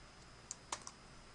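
Light taps on a computer keyboard, a few quick, quiet keystrokes spread over a second or so against a faint background hum, with no voices.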